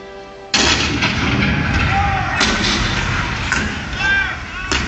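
A loud cannon blast suddenly erupts at Fort Sumter in 1861, followed by continuous rumbling booms and battle noise with whistling tones overhead.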